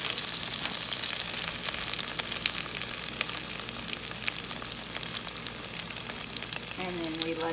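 Onions frying in a pan for a sirloin dinner, a dense continuous sizzle with crackling pops, close and steady, no voices.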